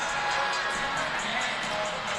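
A capacity crowd fills Christenberry Fieldhouse at a men's college basketball game, a steady wash of cheering and murmur at even loudness throughout, with no distinct single voices standing out.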